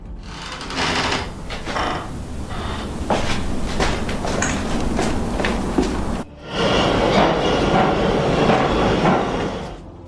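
A Manhattan-bound B or Q subway train rolling through a tunnel just past DeKalb Ave in Brooklyn, a loud, continuous rumble and rattle of wheels on track, with a brief dip before the roar resumes.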